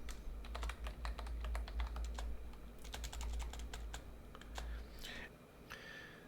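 Rapid keystrokes on a computer keyboard as a password is typed, clustered clicks in quick bursts with short pauses, close and clear over a low steady hum.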